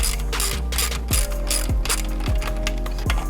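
A ratchet clicking while removing lock nuts from a motorcycle muffler silencer during an exhaust swap, a steady series of close, sharp mechanical pawl ticks in an even rhythm.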